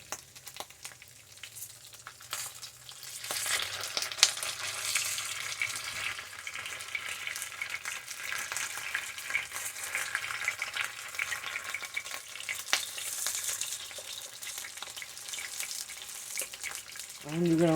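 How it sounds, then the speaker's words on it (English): Cheesy bacon grits cakes fry in a pan with a continuous, fairly quiet sizzle and scattered small pops, steady throughout with a brief louder sound at the end. "You have to watch out because they will snap and pop."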